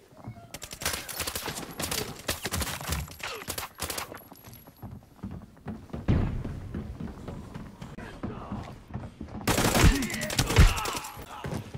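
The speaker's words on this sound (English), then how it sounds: "Shooting through the balcony window." Gunfire through a balcony window in Arena Breakout: rapid, loud bursts of shots in clusters, a quieter stretch in the middle, then a final intense volley.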